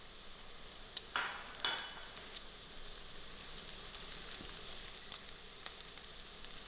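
Soft onions and crushed garlic fry in a pan, a quiet steady sizzle with a couple of sharper crackles and clinks early on, fairly faint and without talk.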